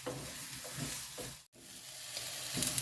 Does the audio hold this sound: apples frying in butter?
yes